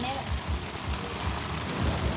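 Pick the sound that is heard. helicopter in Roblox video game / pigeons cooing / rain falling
rain falling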